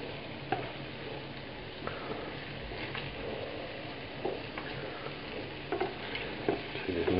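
Meatballs frying in a pan, a steady moderate sizzle with occasional soft ticks and pops, growing a little louder toward the end.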